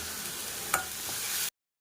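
Sliced onions and salt sizzling in a hot pan, a steady close frying hiss with one sharp clink of a spoon near the middle, then an abrupt cut to silence.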